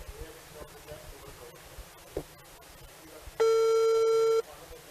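Telephone busy signal on a line: a single loud steady tone lasting about a second, preceded by faint clicks and low background noise.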